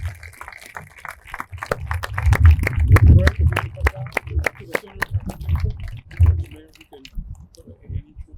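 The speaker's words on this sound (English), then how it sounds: "Let's give them a round of applause." A small gathering at a casino construction site applauds union construction workers, scattered individual claps that build into a brief round and then thin out, with voices murmuring among them.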